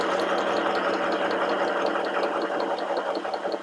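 A sewing machine runs steadily while stitching fabric, with a continuous mechanical hum and a fast, even needle rhythm carrying on for the full stretch at moderate level, easing slightly near the end.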